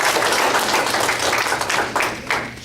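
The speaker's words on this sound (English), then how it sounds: "Clap your hands." An audience at a TRiO Day celebration claps steadily in a dense, continuous burst of applause, fairly loud and sustained throughout, with no distinct voices.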